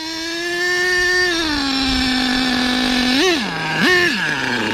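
An Exceed Madstorm RC car fitted with an HPI Savage nitro engine screams at high revs close by. It holds a steady whine, then gives two sharp blips of the throttle, while the clutch seems to slip a little.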